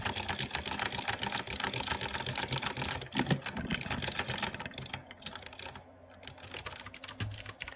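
Rapid, steady clatter of typing on a computer keyboard runs continuously as a sound effect within a song, close and busy throughout.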